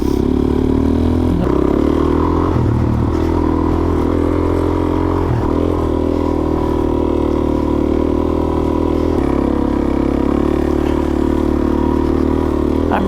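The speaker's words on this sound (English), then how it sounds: "the mightiest bike I have, the Suzuki DRZ400S" A Suzuki DRZ400S dirt bike runs on rough Idaho terrain, its engine droning steadily and loudly throughout, with occasional clatter and scraping over the ground.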